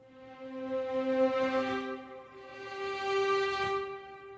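A legato orchestral string pad carries a slow melody in a high-pitched violin register, each sustained note swelling in gently with a soft, somewhat artificial attack; two long phrases rise and fade with no talking.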